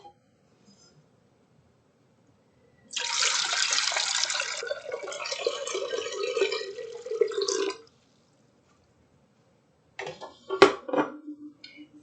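Water is poured steadily into a container for pickle brine for about five seconds, close and alone, followed by a few light clinks and splashes.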